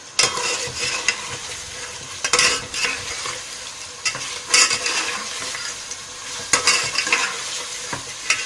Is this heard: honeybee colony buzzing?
no